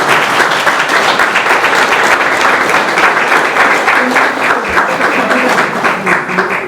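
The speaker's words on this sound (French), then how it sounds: "Je demande un applaudissement particulier pour ce service." Staff audience at a New Year greetings ceremony applauding, loud sustained clapping from many hands with a slightly rhythmic pulse, with some voices faintly beneath it.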